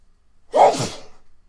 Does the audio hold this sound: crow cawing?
no